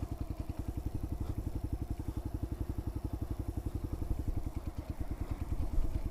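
A motorcycle crawls slowly uphill at near-idle, its engine giving a steady low rapid thumping pulse throughout, fairly quiet and even with no talk.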